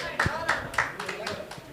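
An audience at a stage program held by an educational trust claps in a loose rhythm, several distinct sharp hand claps coming about a third of a second apart, moderately close.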